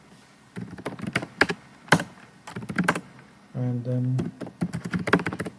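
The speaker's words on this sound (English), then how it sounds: "So to run our application, you have to type npm stat." Computer keyboard keys clack in quick irregular bursts as a command is typed, close and crisp, with a brief spoken phrase partway through.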